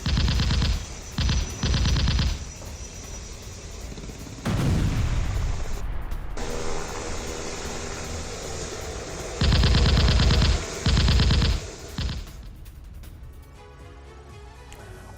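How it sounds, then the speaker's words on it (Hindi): Russian Mi-35M attack helicopter firing unguided rockets during a bombardment in the Ukraine war: loud, rapid, stuttering bursts in repeated volleys over a continuous rumbling roar. "Mi-35M हेलीकॉप्टर से भीषण बमबारी।"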